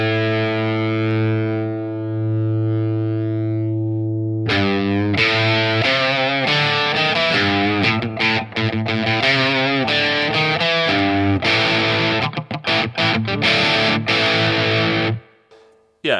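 Heavily distorted electric guitar through a Sonicake Shark pedal at high gain, a sustained low chord ringing alone, then a busier run of loud, saturated notes and riffs that cuts off at the end.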